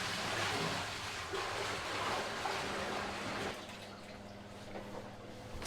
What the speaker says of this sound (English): I've got to get rid of this high concentration water here, so we're going to dump this out